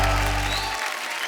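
Studio audience applause greets the singer Sudesh Bhosale on a comedy talk show stage; loud clapping with a low musical tone at the start that cuts off, leaving steady applause.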